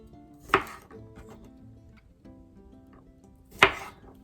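A knife chops an onion on a cutting board in a home kitchen. Two sharp, isolated chops land about three seconds apart over a quiet background.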